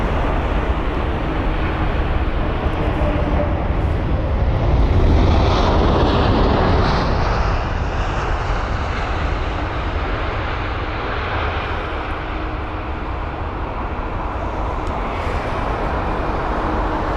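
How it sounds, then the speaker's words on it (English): An Air Canada Boeing 787-9 Dreamliner at Heathrow gives a loud, close jet roar that peaks early with a sweeping whine, then settles into a sustained rumble. "here is the Air Canada 787-9 Dreamliner"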